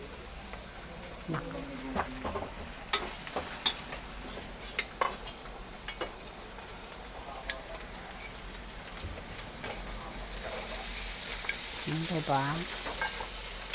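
Pure bihon rice noodles with squid balls cooking in a pan, a continuous sizzling hiss with scattered utensil clinks and scrapes, while people chat briefly in the background.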